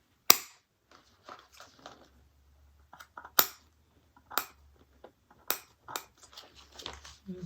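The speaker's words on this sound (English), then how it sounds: "And I'll just snip a little extra off." Scissors snip excess material off a handmade wallet in a series of sharp, close clicks and cuts, spaced irregularly with a few louder snaps among softer ones, heard alone.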